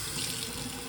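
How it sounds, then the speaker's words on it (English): Water running from a household faucet in a home with a pressure-regulating valve, a quiet steady hiss and splash with no pauses, no voices. "turn on the faucet"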